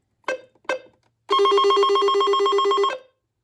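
A weather radio sounds a couple of short chirps, then a sustained electronic alert tone that holds loudly for about a second and a half before cutting off.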